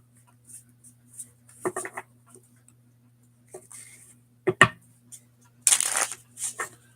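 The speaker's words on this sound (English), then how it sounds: "Still going to shuffle it." Cards riffled and shuffled in a few quick bursts, with soft patters and clicks between them and a steady low hum underneath.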